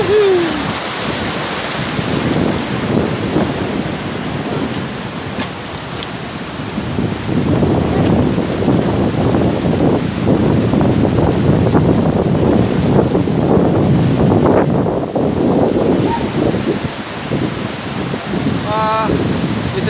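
Constant rushing spray from Tumpak Sewu waterfall in Lumajang, East Java, and gusting wind buffet the microphone, loud and close throughout, with occasional indistinct voices in the background.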